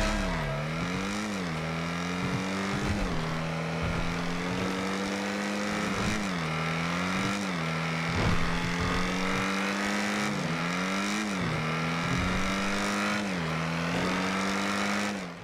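A car engine in GTA Online starts, idles and goes to full throttle, cycling through loud rising revs and gear-shift drops again and again, a buzzy, harmonic roar with no one talking.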